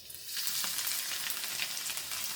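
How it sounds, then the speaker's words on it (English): Chopped garlic sizzles steadily in two tablespoons of hot oil in a kadai, a bright, continuous crackling fry close up with no talking. "In the same kadai add 2 tablespoons of oil. To this add 2 cloves of garlic chopped."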